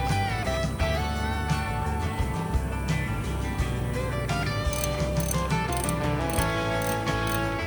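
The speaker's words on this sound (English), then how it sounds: "Torque the innermost bolt to 175 foot-pounds" A ratchet works suspension bolts on a lowered Ford Mustang S650 with MagneRide, producing continuous dense clicking and mechanical whirring at close range, loud and steady throughout with no voices.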